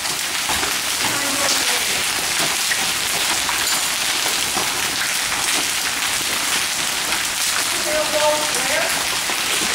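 Hail pelting down during a hailstorm in Longmont, a dense, steady hiss of hard pellets striking surfaces and a drain all around, close and continuous, with a person talking over it at times.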